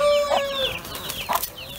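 Dwarf Cochin bantam chickens cluck outdoors around a coop with chicks, with short loud clucks and squawks close by in two brief bursts.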